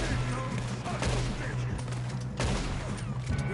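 Gunfire in the video game Red Dead Redemption 2, a busy fusillade of shots with a few louder cracks standing out over a constant low hum and steady background noise.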